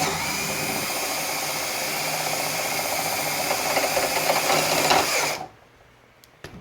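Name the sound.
self-tapping screw being driven into a rack mount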